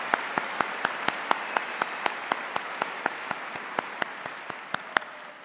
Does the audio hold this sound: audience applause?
yes